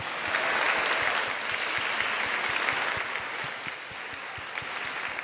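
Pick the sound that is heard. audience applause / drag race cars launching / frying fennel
audience applause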